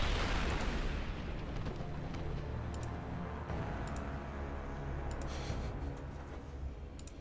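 Rumbling, roaring explosions in the video game Fallout: New Vegas, a dense continuous blast wash that stays loud throughout, with faint clicks and ticks scattered on top.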